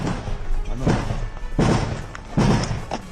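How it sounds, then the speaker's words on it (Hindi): HIMARS rocket strikes hitting Russian positions in war footage come through as three heavy, loud thuds or booms spaced about a second apart, each with a rumbling tail, amid a noisy background. "हाइमर्स से यूक्रेन ने कुछ ही सेकंड में रूस पर दर्जनों मिसाइलें दागी।"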